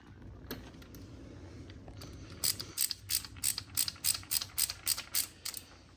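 A hand ratchet tightens a coolant hose fitting on a Yamaha Raptor 700 ATV, giving a close, sharp run of about a dozen quick, rhythmic clicks after a quieter stretch of faint handling noise.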